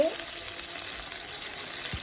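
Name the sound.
water poured into frying onions with ginger and garlic, sizzling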